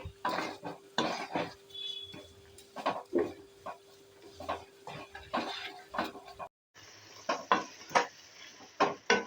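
A spoon scrapes and clinks steadily against a pan while sugar melts for kalakand over a high gas flame, rhythmic close stirring strokes with a faint sizzle, no talking.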